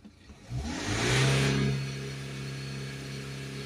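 A BMW 118d 2.0-litre diesel with a blocked particulate filter revs up under acceleration, engine note climbing quickly to a loud, strained peak before settling into a steadier, lower hum, heard close up.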